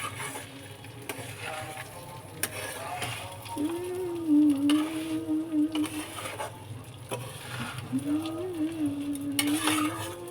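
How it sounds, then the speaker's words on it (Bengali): Rice slowly frying in a pan for spicy masala pulao, a soft sizzle with occasional stirring scrapes, while a person talks over it throughout. "চালটা একটু আস্তে আস্তে ফ্রাই হবে"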